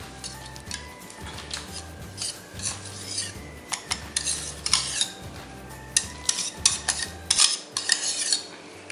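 Eggless pastry cream is spooned from a pot into a bowl, with a steady run of metallic scrapes, clinks and soft knocks of the spoon against cookware, close and fairly loud, no talking.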